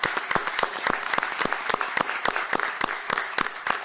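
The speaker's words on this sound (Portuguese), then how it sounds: "Salva de palmas ao mestre Zagallo em vida." A sparse, rhythmic round of applause at a football press event honoring Zagallo: distinct individual handclaps, crisp and fairly close, repeating steadily throughout.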